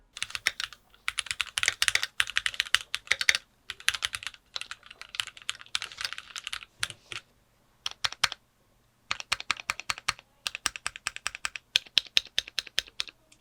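Rapid clacking of a modified Keychron Q1 V2 mechanical keyboard, bursts of typing broken by short pauses, close and crisp with no voices.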